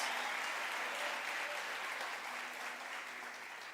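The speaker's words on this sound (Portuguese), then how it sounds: "Você pode aplaudir a Ele nessa noite?" A church congregation applauds during an evening service, steady dense clapping that holds at an even level and tapers slightly toward the end, with no voices over it.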